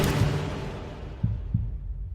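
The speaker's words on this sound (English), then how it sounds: "And you just hear that heartbeat like a bass" A heartbeat effect in a song from Epic: The Musical sounds as soft, low double thuds, like a bass pulse, under a fading musical wash.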